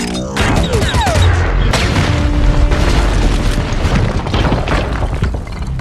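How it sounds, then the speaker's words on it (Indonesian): In a G.I. Joe action film, flying robot flies blow up in a dense barrage of loud, close booms and crackling bursts that roll on for several seconds with no break. "robot-robot lalat yang diterbangkan kemudian meledak dan membuat keributan"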